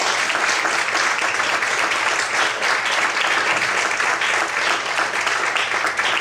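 A church congregation applauds God during a sermon, sustained dense clapping filling the room at a steady level from start to finish, with a low hum underneath.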